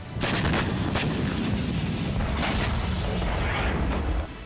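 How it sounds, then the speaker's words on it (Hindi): Heavy booming blasts roll out in quick succession, loud and reverberant, followed by a sustained rumbling din of distant explosions. "यहां लगातार सायरन बज रहे थे और जोरदार धमाके हो रहे थे।"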